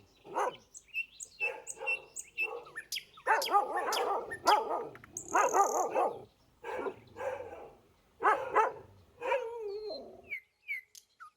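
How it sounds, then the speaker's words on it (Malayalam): A house dog barks repeatedly and loudly at close range in quick irregular bursts, with a few brief pauses and faint birdsong in the gaps. "എല്ലാ വീട്ടിലും പട്ടിയുണ്ട്."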